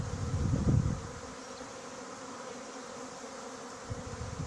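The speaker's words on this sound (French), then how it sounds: "les abeilles vont battre le rappel" A steady swarm of honeybees being collected buzzes throughout, a dense continuous hum with a brief louder rustle near the start.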